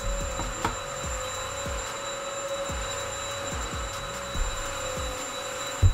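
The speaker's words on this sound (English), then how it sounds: "If you guys hear the vacuum, I apologize." A household vacuum cleaner hums steadily in the background of a room, a constant mid-level drone with faint thumps from keyboard or mouse handling nearby.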